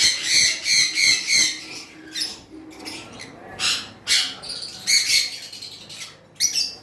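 Lovebirds, a high-mutation bonded pair sold as pets, chirp in a string of sharp bright calls, some clustered and rapid, others spaced apart, fairly close with no talk.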